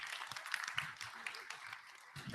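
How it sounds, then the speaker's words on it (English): Church congregation clapping on cue, a short burst of scattered applause at moderate distance with faint voices murmuring underneath. "Give them a big clap."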